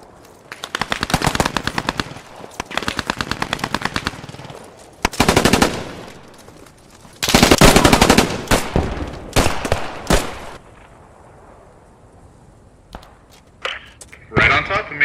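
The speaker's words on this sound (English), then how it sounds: "We got firing to the right." Bursts of automatic and rifle gunfire from the WWII shooter game Post Scriptum, set in Carentan, come in several loud sustained volleys separated by brief quieter gaps, with scattered single shots and distant fire toward the end.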